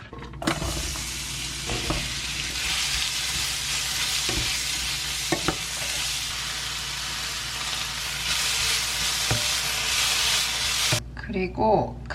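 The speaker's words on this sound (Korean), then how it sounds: "이 애호박이 하나가 또 남아서 이걸로 볶아서 국수랑 먹으려고요" Zucchini stir-fries in a pan with a loud, continuous sizzle and hiss, punctuated by occasional spatula clicks and scrapes, before the frying sound cuts off and a brief voice is heard at the end.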